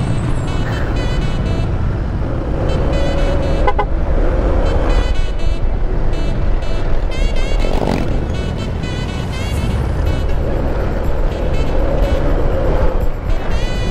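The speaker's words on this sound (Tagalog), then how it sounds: "traffic na talaga dito sa pagpasok" Heavy road traffic at rush hour: a steady, loud roar of car and motorcycle engines, with bus and air-brake hisses and passing vehicles throughout, no voices.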